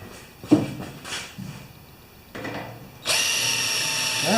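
Power drill with a dull bit, whirring in short uneven bursts with pauses between, then a louder sustained grinding run at the end, close and alone with no talk.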